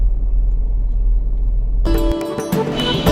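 A car pulling into a mall parking lot: a low, steady engine rumble first, then a sudden shift to a louder, brighter mix of echoing ambient noise as it enters the lot.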